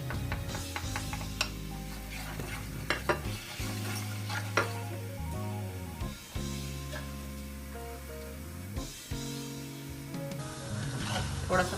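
Spices with garlic and ginger fry in a pan for spiced pickle-style eggplant, a steady sizzle broken by the scrape and clink of stirring, close up over a low continuous background tone.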